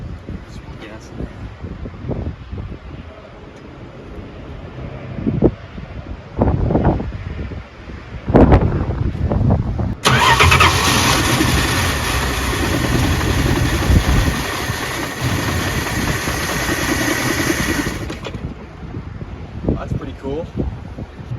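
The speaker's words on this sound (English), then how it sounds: "That's pretty cool that it just started like that." 1968 Dodge Dart engine cranking over and catching, then settling into a steady idle, heard close amid wind buffeting on the microphone, handling clatter and talking.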